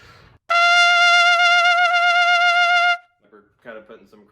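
A trumpet sustains one bright, harmonic-rich note for about two and a half seconds, played as a shake with excessive lip pressure in an all-state jazz trumpet etude, loud and close, followed by a few words of talk.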